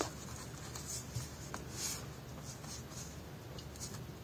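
Paper being cut crookedly with scissors close by: a soft, scratchy, continuous rasp of blades through the sheet with faint brief ticks, and no voices.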